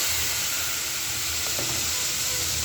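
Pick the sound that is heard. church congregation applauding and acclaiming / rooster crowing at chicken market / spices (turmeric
spices (turmeric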